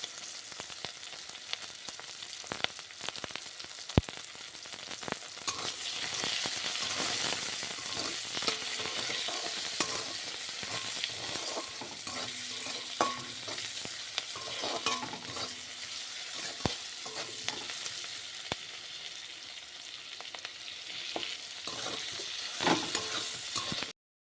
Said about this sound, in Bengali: আলু আর পেঁয়াজটা ভেজে নিতে হবে